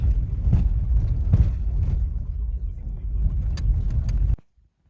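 A four-wheel-drive car pulls away on a muddy dirt road, its engine a steady close rumble with a couple of heavier surges and faint clinks near the end, before cutting off abruptly.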